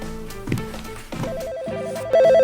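A telephone ringtone trills in a repeating electronic pattern over background music, growing louder toward the end.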